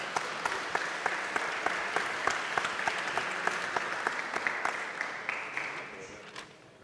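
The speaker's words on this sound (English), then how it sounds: "a big round of applause for our panelists" Sustained audience applause from a conference crowd thanking a panel of speakers, steady dense clapping with sharp individual claps standing out, fading slightly toward the end.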